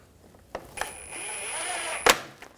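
A bracket screw on a 2004-2009 Audi A4 AC condenser is snugged down, giving a few close metallic clicks and a short ratcheting run ending in a sharp tap.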